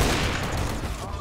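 A loud, dense burst of gunfire from the CS:GO video game fills the whole moment, with overlapping rapid shots and no clear gaps.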